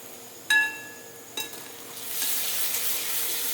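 Tomatoes dropped into a pan of frying onions and cumin for cheese anda bhurji, giving a sharp clatter, a second brief knock, then a rising steady sizzle that fills the rest, close and moderately loud.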